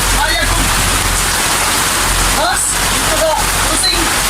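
Heavy rain falling outdoors, a loud, constant rushing hiss like a downpour on surfaces, with a few faint voices briefly mixed in.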